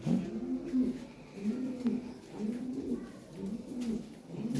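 A pair of Lahore pigeons giving low, rolling coos in a steady repeating rhythm, close by and fairly soft, with a faint voice in the background.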